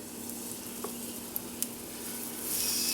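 Breadfruit pancake batter sizzling in a hot, well-seasoned cast iron skillet, a steady close crackling hiss with a couple of small ticks, swelling louder near the end.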